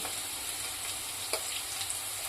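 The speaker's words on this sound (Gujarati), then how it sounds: "સરસ એવા આપણે લસણ અને ડુંગળી સતરાઈ ગયા છે" A soft, steady sizzle of garlic and onion sautéing in a pan, with a couple of faint stirring clicks.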